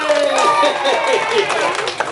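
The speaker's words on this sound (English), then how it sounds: "Everybody give yourselves a great big round of applause" A group of children at a family stage show applaud and cheer, with close clapping mixed with high excited voices throughout the short stretch.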